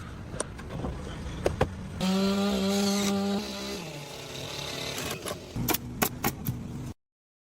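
A chainsaw engine revs loudly for about two seconds, its pitch dropping as it bogs into a log while trimming its edges, surrounded by sharp knocks and clattering of forest shelter building nearby.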